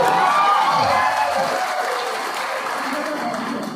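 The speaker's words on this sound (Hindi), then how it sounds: "अरे और जोर से ताली बजाओ" Loud applause and cheering from a large crowd at a BJP election campaign rally in Tinsukia with MP Manoj Tiwari, a dense clapping roar that slowly eases off over a few seconds.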